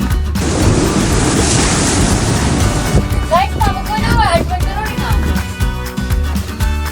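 Steady broadband surf wash of waves on a beach on Scotland's north coast fills the first few seconds, with a person talking over the continuing roar afterward.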